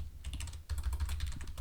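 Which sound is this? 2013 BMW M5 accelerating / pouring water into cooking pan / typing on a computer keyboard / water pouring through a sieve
typing on a computer keyboard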